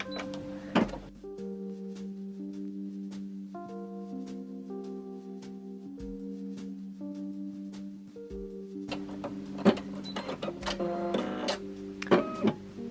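A computerized embroidery machine stitches a design, a steady mechanical hum with rapid rhythmic needle ticks and shifting motor tones, plus a few louder clicks and rattles near the end.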